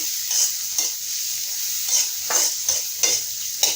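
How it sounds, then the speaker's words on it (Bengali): Chopped onions sizzle in a pan while a spoon stirs them, giving a steady hiss punctuated by regular scraping strokes, close and alone without talk. "পেঁয়াজটা একটু ভেজে নিব"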